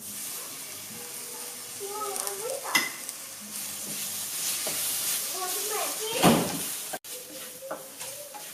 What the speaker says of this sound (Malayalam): ഇനി തക്കാളി ഒന്ന് വെന്തുടയണം, അതുവരെ ഒന്ന് ഇളക്കി കൊടുക്കാം.